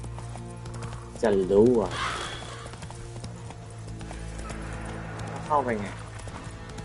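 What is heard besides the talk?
horse Roach's hooves clip-clopping in video game Witcher 3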